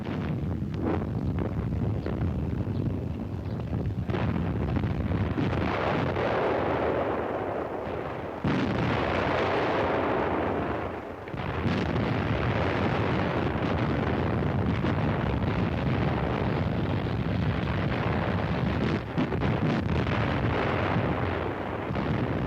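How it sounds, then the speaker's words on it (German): Artillery and German rocket launchers firing in the battle at Monte Cassino in 1944, heard on an old newsreel soundtrack as a continuous loud rumbling roar of blasts and booms with wind-like noise, dense and unbroken, no talk. "Mit der Artillerie greifen immer wieder die deutschen Werfer ein, die bei unseren Feinden als eine gefährliche Waffe gelten."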